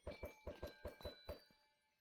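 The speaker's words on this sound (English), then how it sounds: "when you step on the block and when you throw projectiles at it, it makes a chiming noise" Bright bell-like chimes ring from a block being stepped on in Minecraft, seven or eight even, quick strikes with sustained ringing overtones, each note clear and close, fading out after the last.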